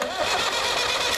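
An International Harvester B275 diesel tractor engine is turned over in a short, loud, rough churning burst.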